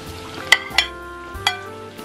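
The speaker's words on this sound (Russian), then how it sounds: "Обжариваем еще буквально минуты 2-3 до полуготовности болгарского, чтобы болгарский похрустывал." Sliced bell pepper and carrot fry in a pan under a faint sizzle, broken by a few sharp knocks of a spatula against the pan as the vegetables are stirred.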